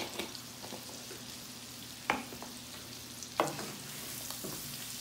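Garlic shrimp stirred in a hot frying pan, a steady close sizzle broken by two sharp scrapes of a utensil against the pan, with no talking.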